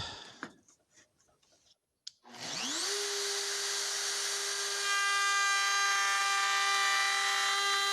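A power drill spins up with a rising whine and then holds a loud, steady high-pitched drone as the bit bores into wood for a small LEGO mini-figure, with a few light clicks and handling taps before it starts.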